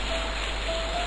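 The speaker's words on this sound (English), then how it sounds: "the heavy rain downpour sound" Heavy rain downpour pours as a steady, dense broadband hiss, loud and continuous with no breaks for its brief duration and no voices.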